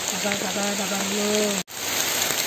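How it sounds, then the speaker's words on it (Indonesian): Rain patters steadily and densely on a mountain hiking trail at Gunung Kawi, a constant hiss that continues over a brief spoken voice and a momentary dropout. "sambil hujan-hujan."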